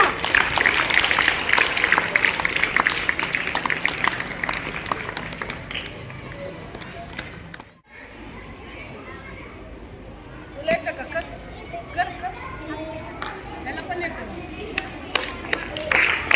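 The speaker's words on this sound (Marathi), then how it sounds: "छान, टाळ्या वाजवा." Children and adults clapping hands at a yoga workshop, bursts of applause under an adult voice giving praise, then a short pause and scattered, lighter claps with chatter.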